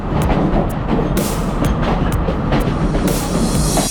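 A passenger train on the Kandy to Ella line rumbles steadily along cliffside track, a dense continuous roar with periodic sharp clanks and rattles from the carriages.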